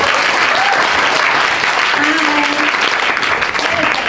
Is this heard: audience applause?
yes